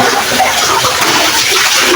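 Water rushes and gushes steadily into a farm well being cleaned after the pump is switched off, a loud, dense, unbroken churning flow close by with no talking.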